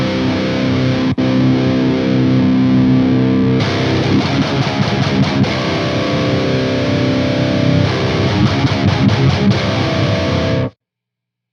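Cranked Hell Razor or MTL MK2 guitar amplifier heads, 120 watt and 50 watt, driven through a distortion pedal, playing loud, dense, saturated riffs that sustain for about eleven seconds, then cut off abruptly into silence.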